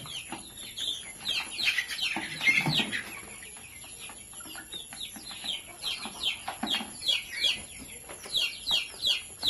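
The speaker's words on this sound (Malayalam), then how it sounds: "ഇതാണ് നമ്മുടെ രണ്ട് മാസം പ്രായമായിട്ടുള്ള കോഴിക്കുഞ്ഞുങ്ങൾ" Two-month-old chicks on a Kerala poultry farm cluck and chirp in overlapping bursts, with several birds calling at once at moderate distance.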